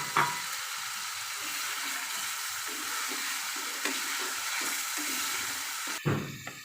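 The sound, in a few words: eggs added to spiced masala frying in a pan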